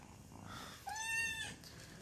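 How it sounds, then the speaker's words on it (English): A pet cat gives a short rising meow that opens out clearly over soft background hum, close to the microphone, in an indoor room; the purr is not distinct. "This is my cat here."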